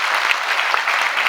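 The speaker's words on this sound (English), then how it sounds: "Give them a round of applause one more time" An audience at the Business 2012 event with Lord Alan Sugar gives a loud, dense round of applause. Many hands clap in a steady wash that fills the whole brief moment.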